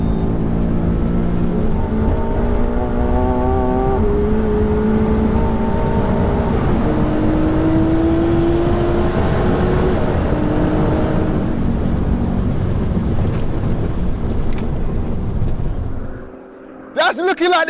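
An 840 hp BMW M5, an 860 hp Nissan GT-R and a 720 hp McLaren 720S street racing produce a sustained engine roar that climbs in pitch through the gears, with voices underneath, before the sound drops away at the end.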